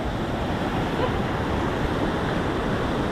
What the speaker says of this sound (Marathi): हा आहे काळ मांडवी धबधबा